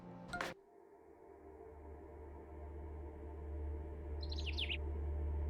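A small bird in the video game OFF gives a quick burst of high chirps near the end, following a sharp click, over a low steady hum.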